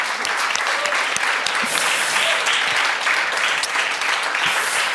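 Steady, dense audience applause fills a summit hall, many hands clapping close and continuously for the whole span.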